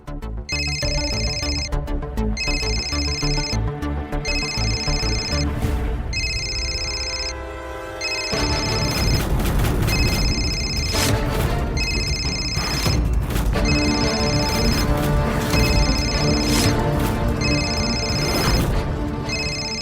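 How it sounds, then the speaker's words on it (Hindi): A telephone ringtone for an incoming call in a Hindi TV serial scene: a repeating electronic ring pattern over background music, which swells louder about halfway through. "ईशानी दीदी का कॉल"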